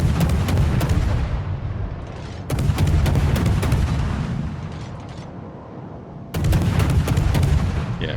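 Naval guns on the Harugumo, a destroyer in the World of Warships video game, fire shells in three heavy salvos, each a loud booming blast followed by a rumbling, crackling decay, with no talk over them.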